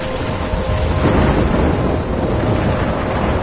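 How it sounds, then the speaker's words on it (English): A thunderstorm in the video game Life is Strange: steady heavy rain and a broad rumbling roar of thunder fill the whole stretch, loud and continuous with no talking. "I'm trapped in a storm?"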